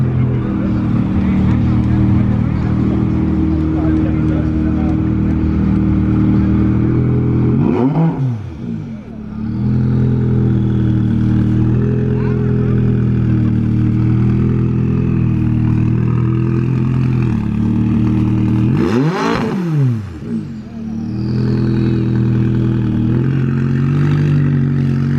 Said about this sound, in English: we got a bonkers 570 leaving. This is the one with the crazy turbo sounds